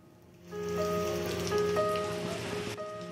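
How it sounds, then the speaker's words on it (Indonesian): Heavy rain pours steadily during a Wednesday-midday downpour at a landslide site in Suwawa Timur, Bone Bolango, Gorontalo, a dense continuous hiss with tonal hum layered over it and no voices. "Hujan deras terus mengguyur Kecamatan Suwawa Timur, Bone Bolango, Gorontalo Rabu siang, termasuk di lokasi longsor."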